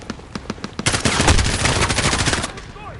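Sustained machine gun fire in the video game Call of Duty: Modern Warfare, a loud rapid burst stream following a few separate shots, dense and close, with no voice over it.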